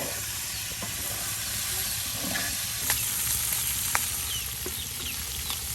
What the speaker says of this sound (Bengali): মাংসটা যখন ভাজা ভাজা হয়ে যাবে